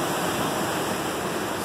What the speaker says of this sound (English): Let's watch the rest of that breaker.